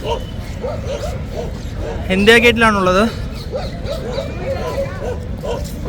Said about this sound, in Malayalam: ഇന്ത്യ ഗേറ്റിൽ ഇവിടെ ഒരുപാട് നായ്ക്കളൊക്കെ ഉണ്ട്